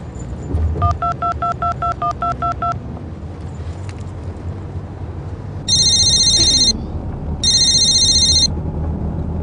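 Telephone call being placed: a quick run of touch-tone dialing beeps, then a pause and two bursts of an electronic ring tone with a gap between them, loud and close over a faint background hum.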